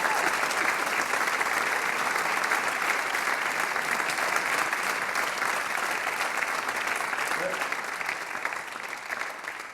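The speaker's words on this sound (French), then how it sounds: "On l'applaudit encore une fois, notre excellent sujet ici" A studio audience on a French television programme applauds steadily, a dense, even wash of clapping that holds at full strength throughout and eases only slightly near the end, with faint voices underneath.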